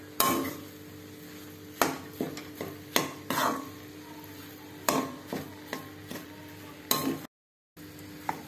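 A spoon scrapes and knocks through salted modak dough mixture in a pan over low heat, in irregular bursts of clatter with short pauses, close and fairly loud, with a gap of silence near the end.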